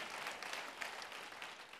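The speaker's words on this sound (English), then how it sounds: "Yes, we should clap for that" Applause from an audience at an education conference on social-emotional learning, a dense steady wash of clapping that stays even throughout, fairly soft and a little distant.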